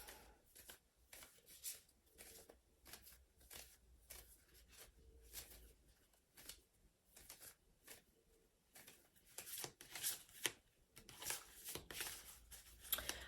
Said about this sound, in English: give this deck a little shuffle